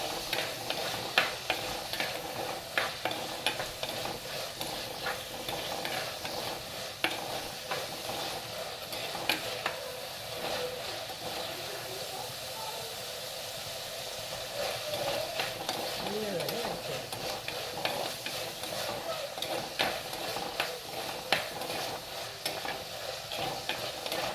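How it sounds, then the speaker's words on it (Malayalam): Chili powder, coriander powder and salt sizzle in a hot pan while a spoon stirs them through, making a continuous frying hiss with scattered scraping ticks and no voices. "മുളക് പൊടി, മല്ലിപ്പൊടി ഉപ്പൊക്കെ നമുക്ക് ചേർത്ത് വഴറ്റിയെടുക്കാം."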